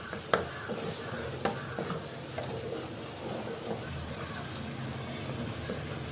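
Gram flour masala stirred and roasted in a pan over a low flame for a fresh paneer curry, giving a steady soft sizzle with occasional sharp scrapes of the spoon, close and continuous with no talk.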